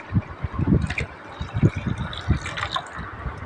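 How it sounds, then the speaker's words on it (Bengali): Milk, a full kilogram, poured from a container into a bowl of beaten eggs for a pudding, giving a steady liquid gush and splashing with soft low thumps throughout. "এখন আমি দুধটাকে অ্যাড করে দেবো।"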